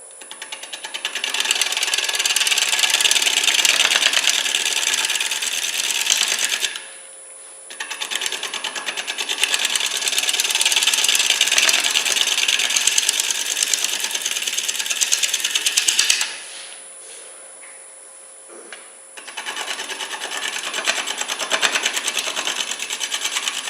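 Wooden bowl spinning on a lathe while a turning tool takes scraping and shearing cuts, giving a loud, rough, continuous chatter that stops twice briefly between passes, with no talking.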